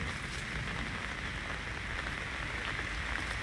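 Steady rain falls at an outdoor grave site, a dense, even hiss of drops on surfaces that holds constant and fairly close throughout, with no voices.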